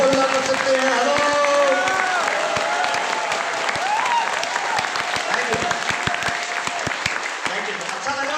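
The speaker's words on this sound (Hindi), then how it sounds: "अगले 2 सेकंड का मौका है, ताली जोर से बजाएं ताकि लेफ्ट वाला हाथ लाल हो जाए।" Loud audience clapping at a business motivational seminar in India, a dense continuous roar of hands with shouting and voices over it, easing slightly near the end.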